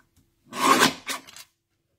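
A paper trimmer slices card for a handmade stamped greeting card in two quick rasping strokes, one longer pass followed by a shorter one, close and alone in a quiet room.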